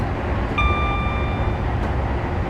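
An HST train in Train Simulator 2015 on the Bristol to Exeter route rumbles steadily at speed with power shut off, a low continuous rail roar with a brief faint whistle-like tone partway through.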